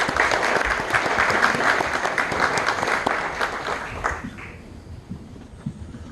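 Applause at an energy transition forum's first anniversary ceremony as the audience welcomes a professor to the podium; sustained clapping that thins out toward the end, leaving scattered claps.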